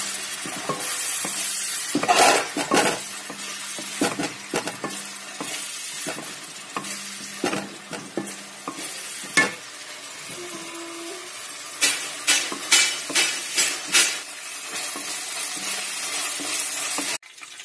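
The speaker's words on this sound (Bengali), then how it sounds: "পেঁয়াজ রসুনটা ভাজা হয়ে গেছে" Onion and garlic paste sizzles steadily in a hot pan while a utensil repeatedly scrapes and stirs through it, with bursts of louder frying between quieter stretches.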